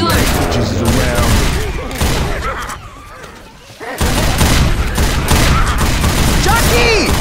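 Dense, continuous gunfire and booming shots from a Skylanders video game, loud and sustained with a brief lull midway, while a voice talks over parts of it.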